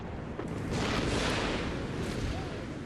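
Mortar fire in the Napoleonic-era strategy game Empire: Total War, a deep rolling boom that swells and lingers for a couple of seconds with a rumbling tail.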